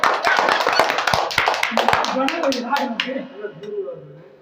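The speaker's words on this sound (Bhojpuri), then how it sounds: "तालियां जबरदस्त" Audience applause at a Bhojpuri comedy song performance, a burst of clapping at the start that thins out over a few seconds while someone talks over it.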